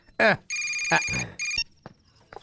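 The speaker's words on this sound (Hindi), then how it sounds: "फोन बजा, फोन।" An electronic telephone ring from a dubbed Hindi action film scene sounds in two clear bursts between spoken lines, with voices talking just before and after.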